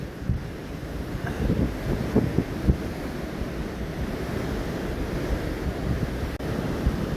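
Sea waves break and wash along the coast between Scarborough and Filey on an overcast day, a continuous surf roar mixed with gusty wind buffeting the microphone, with no voices.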